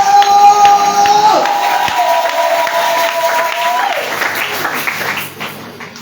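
A church congregation at a French-language service cheers and applauds in a loud, dense wash of clapping. Sustained sung or shouted voices ride on top and the sound tapers off toward the end.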